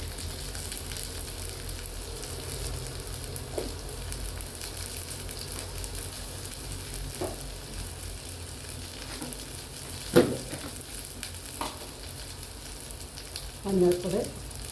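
Onion, green chili, ginger and curry leaves fry for a mussel fry, a soft steady sizzle with occasional stirring clinks and scrapes.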